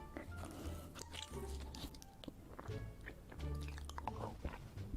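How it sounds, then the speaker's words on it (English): A person chews food in a mukbang: wet, crunchy bites and squishy mastication noises, close and continuous, over a busy background. "Bro, I don't like hearing people chew."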